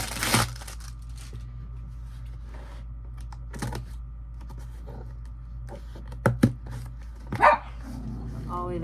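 Pet dog barking indoors at a household noise, a few sharp separate barks spread through a quiet room, loudest near the end, with faint tapping and rustling between them.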